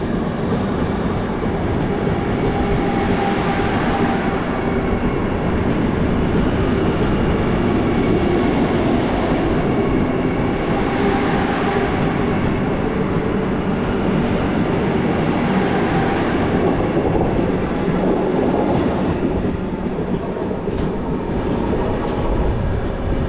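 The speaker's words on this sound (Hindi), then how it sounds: "अभी यहाँ से ये जा रहा है बंदे भारत, क्रॉसिंग के लिए खड़ा था वो" Vande Bharat express train rolling through a station on the Kerala to Bangalore route, a steady loud rumble and rail roar sustained throughout without pause.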